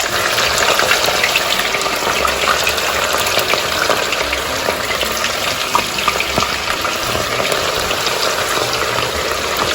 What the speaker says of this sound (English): You hear it sizzle? That means it's done.